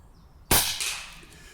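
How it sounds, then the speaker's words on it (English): A single crisp, snappy shot from a Daystate air rifle rings out close by, quick and fairly quiet, with a short fading tail and no talk. "And because I'm a hunting type guy, Tony, I'm going to go for the headshot"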